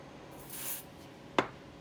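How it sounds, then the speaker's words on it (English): A spray can gives a brief soft hiss during a workshop build of a laser-cut MDF nativity cave, faint and short, followed by a sharp click. "A little bit of spray."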